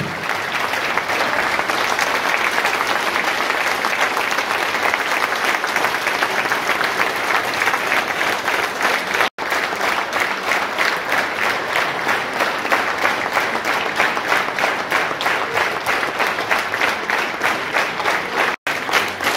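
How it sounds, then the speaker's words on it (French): Crowd applauding at a village ceremony for a local Olympic flame bearer, a loud, sustained, rhythmic clapping that runs unbroken for the whole stretch with two brief dropouts. "applaudissez plus fort que ça, s'il vous plaît"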